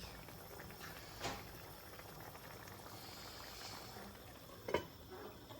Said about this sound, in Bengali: এই যে ডাউল সেদ্ধ করে নিচ্ছি